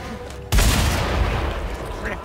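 A sudden loud boom of gunfire in the Mad Max video game erupts after a quiet moment, then rolls into a dense, sustained rumble of shots and explosions.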